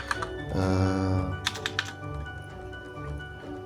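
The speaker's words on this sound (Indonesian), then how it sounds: "Misalnya kita ketik" Computer keyboard typing during an e-learning tutorial for middle school students, heard as a dense burst of key clicks followed by a few separate taps, close and fairly quiet, with no talking.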